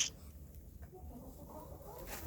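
A broody hen gives soft, low clucks and grumbles at close range. The sounds are faint and irregular over quiet background noise during morning chores.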